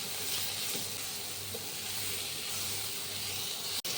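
Chopped tomatoes sizzle as they land on browned onions frying in oil. A soft, even hiss runs throughout, fairly quiet and alone, and a sharp click sounds shortly before the end.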